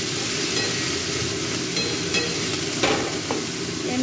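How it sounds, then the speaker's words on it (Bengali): Vegetables are stir-fried in a pan until half cooked, with a continuous close sizzle under scraping, stirring clicks and a couple of sharper knocks. "সবজিগুলো এবার দিয়ে দিলাম। সবজিগুলো আধ ভাজা হবে"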